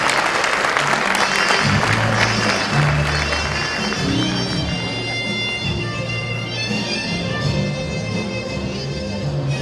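An audience applauds graduating eighth-grade students at a 2018 school graduation ceremony, with steady, dense clapping that starts strong and tapers slightly over nearly ten seconds, with a faint low tonal hum beneath.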